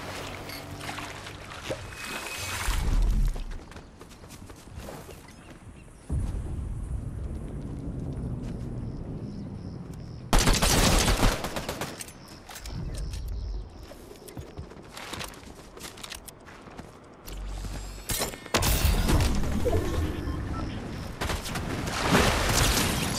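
Pistol fire in Fortnite, several loud bursts of shots in separate clusters over steady game noise, with no speech.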